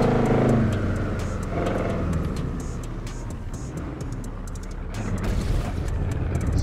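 A Ford Crown Victoria engine in GTA 5 rumbles and revs steadily, swelling louder near the end, with sharp clicks scattered over it.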